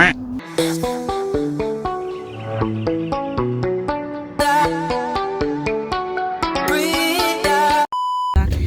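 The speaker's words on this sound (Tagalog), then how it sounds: "Someone's beeping." Bright electronic beeps run in a quick melodic sequence, ending in a single steady, sustained beep tone.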